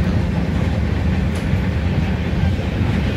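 Steady loud rumble and rattle inside a moving passenger train at night, continuous wheel and carriage noise with no voices, heard from within the darkened coach.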